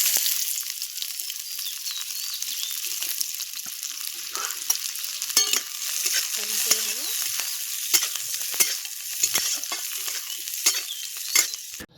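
Dried chilli, garlic and chopped onion sizzle hard in hot oil for a dal tempering, a dense, continuous crackle with scattered spatters and stirring scrapes, close and loud with no voices.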